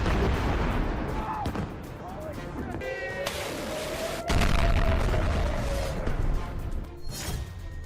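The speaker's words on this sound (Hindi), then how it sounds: "अमेरिकी युद्धपोत से टॉमहॉक मिसाइलें दागी जा रही हैं।" Tomahawk missiles launch from a US warship at sea, a sharp blast followed by a rising roar that fades off, with someone speaking over the noise.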